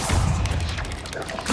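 A Bombarda blasting spell goes off in Hogwarts Legacy, a loud close booming burst with rumbling low-end decay and crackle.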